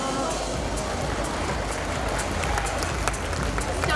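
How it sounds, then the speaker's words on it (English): A school annual day audience breaks into sustained applause, a dense, steady wash of clapping from a large crowd filling the hall without pause. "I should hear the louder applause."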